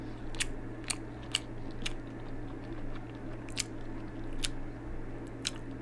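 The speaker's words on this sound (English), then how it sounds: "Now listen to me chew." Someone chews a waffle close up, producing a run of sharp crunchy bites spaced irregularly over a steady low hum, with no talking.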